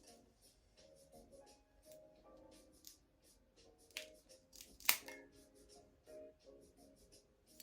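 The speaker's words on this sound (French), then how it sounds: "Coupe cigare. Pour couper la tête de cette vitole." Cigar cutter clipping the head of a Roméo y Julieta Linea de Oro Hidalgo cigar, with a few faint quiet snips and small handling clicks, one sharper cut standing out near the middle.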